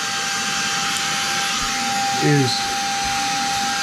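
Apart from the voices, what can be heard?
battery-powered vacuum cleaner with dust attachment cleaning a vent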